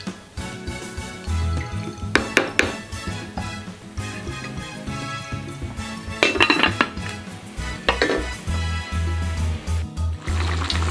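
Metal pot and lid clatter on a home stove as the lid is set over simmering food, with a few sharp clinks and scrapes against a steady low hum, close and moderately loud, no talking.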